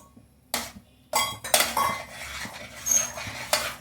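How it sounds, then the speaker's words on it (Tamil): Jaggery, rice and lentils for sweet pongal are stirred in a pot, giving a few loud, close ladle scrapes and clanks against the metal in irregular bursts, no talk. "நல்லா கிண்டி விட்டுட்டு இது ஒரு 5 நிமிஷம் வேகட்டும்"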